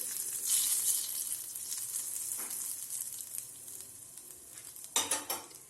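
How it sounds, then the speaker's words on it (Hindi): Steady hissing sizzle of Kashmiri red chilli and dried fenugreek leaves frying in hot ghee for a dal tempering, with occasional scrapes of stirring and a louder crackle near the end. "इसमें मैं थोड़ी सी कश्मीरी लाल मिर्च और कसूरी मेथी को डाल रही हूँ तड़का लगाने के लिए"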